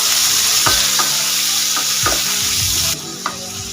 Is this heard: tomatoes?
yes